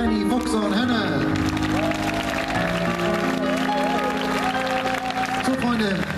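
A concert audience applauds and cheers for the stage crew, the crowd noise sitting under loud sustained music and a voice on the PA.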